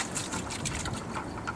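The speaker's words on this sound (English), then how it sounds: "splash a little water in." Water splashed into a gold concentrate pan, a steady close wash of sloshing and trickling that stays fairly even and fills the whole moment without any talking.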